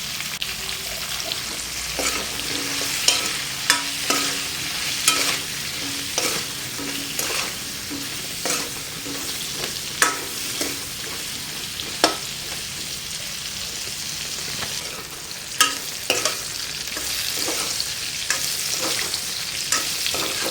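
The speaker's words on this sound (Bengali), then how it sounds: "দিয়ে দেব পটলগুলো, দিয়ে নুন আর হলুদ একসাথে দিয়ে ভেজে নেব পটলগুলোকে।" Pointed gourd pieces fry in oil with salt and turmeric, giving a steady close sizzle broken by frequent sharp clicks and scrapes of a utensil stirring in the pan, with no talking.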